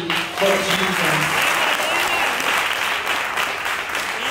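A church congregation applauding: dense, sustained clapping from many hands throughout, with a voice briefly heard near the start.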